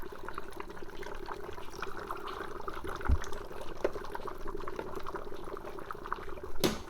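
Drinks are poured into glasses already charged with dry ice, giving a soft bubbling, fizzing and trickling of liquid at close range, with a clink near the end and no talk.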